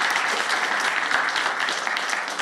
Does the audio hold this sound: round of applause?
yes